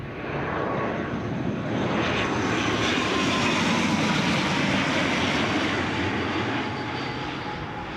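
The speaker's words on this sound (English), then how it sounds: "The Aer Lingus ATR 72, registration G." Aer Lingus ATR 72 turboprop airliner arriving from Belfast at Newcastle airport, a sustained broad engine roar that swells and holds steady, heard from a moderate distance without voices.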